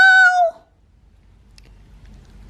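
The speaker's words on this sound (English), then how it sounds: "Winnie tripped over Wilbur. Meow!" A cat lets out one loud, clear meow right after being tripped over in a dark house, followed by near silence with only a faint low rumble.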